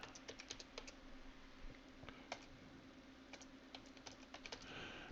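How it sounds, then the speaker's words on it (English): Quiet, uneven bursts of keystrokes on a computer keyboard as someone types a key phrase, clicks clustering in quick runs with brief pauses, close and alone without speech. "I'm going to type in something here and some more."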